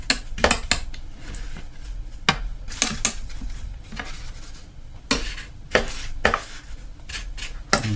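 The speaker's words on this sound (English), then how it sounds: "Let's just mix all the paint up in the palette." A brush mixing watercolour paint in a palette, giving a series of sharp taps and scraping dabs at an irregular rhythm, close and fairly crisp, with no talking.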